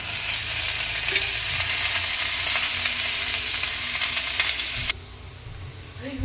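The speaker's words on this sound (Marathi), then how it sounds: "चला आता कांदा थोडंसं काळसर तसा जाळून घ्यायचा कांदा पण त्याच्यात पण आपण थोडंसं तेल टाकायचं" Onions fry in oil until darkened, making a loud, dense sizzling hiss that holds steady and close for several seconds. It then drops sharply to a quieter crackle.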